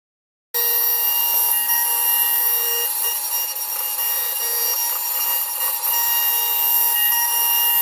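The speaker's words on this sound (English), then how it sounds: "Now to machine the other side." A machine cuts the other side of the metal stock for a sword with a steady, loud high-pitched whine and tonal hum that runs unbroken for several seconds after starting abruptly.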